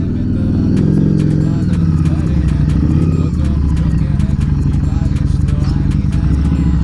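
A Harley-Davidson Street 750 with a Vance & Hines exhaust idles with a steady rumble and mechanical clatter, loud and close, with some revving.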